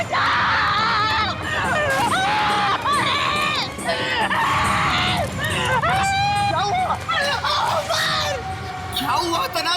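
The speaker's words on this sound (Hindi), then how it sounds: "क्यों चिल्ला रहे हो?" Several people scream and shout in a horror drama scene, loud and continuous for about ten seconds, with overlapping frantic voices and a chaotic crowd-like babble throughout.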